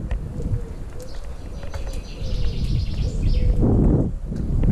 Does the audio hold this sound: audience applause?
no